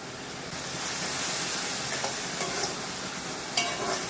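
A spoon stirs a ground paste loosened with a little water and turmeric in a hot pan, giving a continuous soft sizzle with scraping strokes and faint steam hiss.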